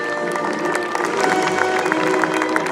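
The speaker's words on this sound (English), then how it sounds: "With a big round of applause for all the teams of Horseboarding UK" Audience applause at an outdoor game fair horseboarding event, a steady wash of clapping from a crowd lasting throughout with a few sharper claps standing out.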